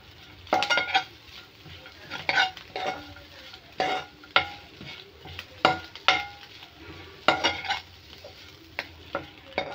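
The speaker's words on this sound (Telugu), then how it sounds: "కొద్దిగా పసుపు వేసి ఇప్పుడు బాగా కలిసేలా కలుపుకుందాము" Moringa leaves and egg with turmeric are stirred in a frying pan, with repeated clanking scrapes of a spatula against the metal over a low sizzle, close and irregular, no voices.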